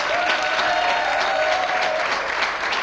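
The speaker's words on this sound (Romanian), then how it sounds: "aplauze" Studio applause on a Romanian football talk show, a loud, dense, steady wash of many hands clapping with no pauses, holding at even volume from start to end.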